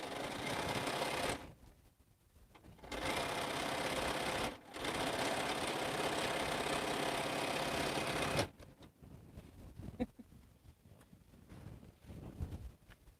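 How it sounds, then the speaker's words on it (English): A sewing machine stitches light fabric quilt blocks, running in long steady whirring bursts with short pauses between, close and clear, then falls quiet to faint handling sounds. "I'm sewing the light blocks that are in the center"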